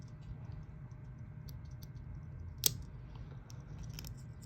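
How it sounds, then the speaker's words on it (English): Small scissors on a Swiss Army knife being opened and worked, giving one sharp metallic click amid faint ticking and handling noises in a quiet room. "A pair of scissors."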